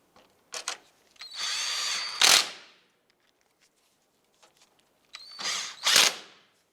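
Power drill driving screws while installing a headlight on a 2011-2019 Ford Fiesta, two separate bursts of whirring that rise to a sharp tightening whine, with a quiet pause between them.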